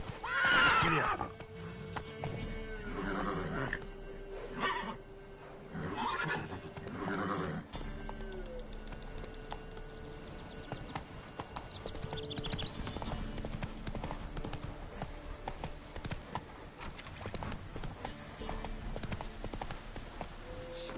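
A horse in The Witcher 3: Blood and Wine gives a loud neigh at the start, then steady clip-clop hoofbeats run on for about twenty seconds over game ambience and music.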